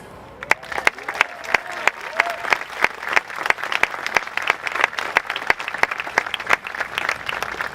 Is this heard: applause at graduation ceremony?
yes